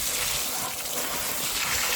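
Water gushes from a broken tap flooding a vandalised rental house, a steady loud broadband rush of splashing water filling the whole moment without a break.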